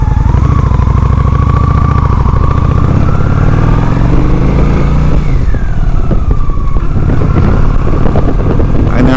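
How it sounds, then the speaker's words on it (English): A motorcycle engine drones loudly while riding, its pitch rising and falling with throttle changes in a close, continuous hum. "I know I'd rather ride my motorcycle to go get a steak somewhere"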